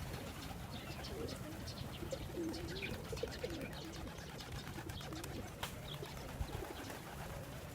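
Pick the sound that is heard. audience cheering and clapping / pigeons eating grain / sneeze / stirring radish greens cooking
pigeons eating grain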